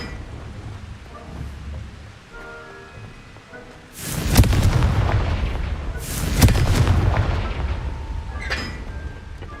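Explosion spell blasts in Hogwarts Legacy, two heavy booming bursts a couple of seconds apart with rumbling, crackling tails over a low game ambience, no talk.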